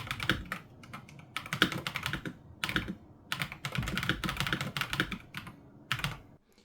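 Rapid clacky typing on a WYVERN K689 Pro mechanical keyboard with red switches, close up, in bursts of keystrokes separated by short pauses, with no talking.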